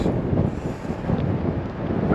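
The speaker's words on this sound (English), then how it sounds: "It is very windy and very chucky down here this morning" Blustery coastal wind right by the water buffets the microphone with a steady low rumble, loud and continuous throughout, with no voices.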